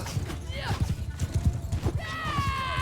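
Cavalry charging in a Mount and Blade Bannerlord battle: rapid, rhythmic hoofbeats pound close and loud, with a horse's whinny rising midway and a long neigh at the end.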